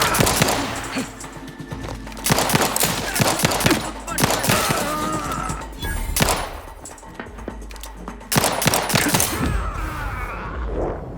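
Gunfire in the sci-fi video game The Outer Worlds 2: dense, loud, close volleys of shots and impacts in quick succession, with a voice briefly audible among them.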